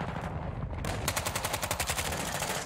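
Gunfire crackles through a Call of Duty match in one continuous loud burst of rapid, evenly spaced cracks lasting nearly three seconds, dense and close up.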